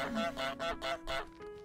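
Untitled Goose Game goose honking, a video game bird: a rapid string of four or five brassy, nasal honks, close and loud, trailing off at the end, with no talking.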